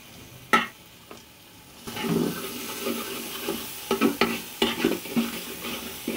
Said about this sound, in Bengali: চালটা তো সব ঘি দিয়ে ভাজতে হবে